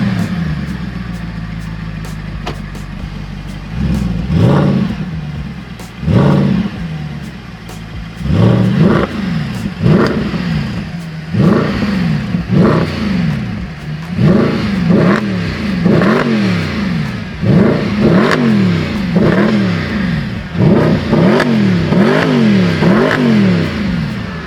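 A Mercedes-AMG Black Series car with a naturally aspirated 6.2-litre V8 roars up close, idling and then revving hard again and again in rising and falling sweeps that grow louder and more frequent.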